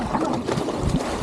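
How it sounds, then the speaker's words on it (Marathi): A fishing boat motors along at sea off Malvan, its engine drone blending with rushing wind and water in a continuous, loud, close-up wash with no talking. "बोट चालते"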